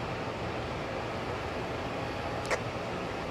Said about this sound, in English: Don't mind if you guys hear a fan in the background.